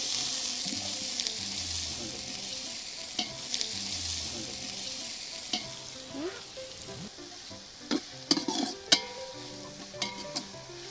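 Onions sizzle steadily in a hot pan, sautéing toward golden brown for mushroom biryani, while a utensil stirs and scrapes, with occasional clinks near the end.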